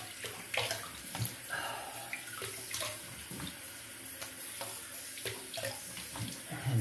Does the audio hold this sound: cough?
no